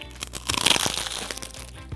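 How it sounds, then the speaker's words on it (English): Crispy fried pork skin chicharrón crunches loudly in a close bite, a burst of crackling and crinkling that fades into quieter chewing crunches over about two seconds. "You heard the crunch."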